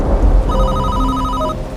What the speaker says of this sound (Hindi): तभी फोन बजा।